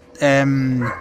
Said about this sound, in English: Also apologies for the dog barking in the background.